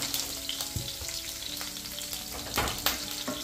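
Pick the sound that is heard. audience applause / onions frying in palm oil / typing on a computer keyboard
onions frying in palm oil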